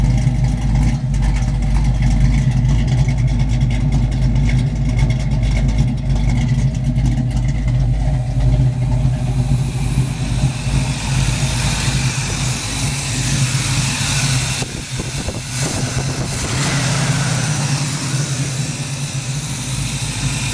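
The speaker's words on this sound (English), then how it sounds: "Seems to be idling fairly happily now." A car engine idles steadily with a low, even rumble, its tone shifting slightly partway through before settling back into a smooth idle.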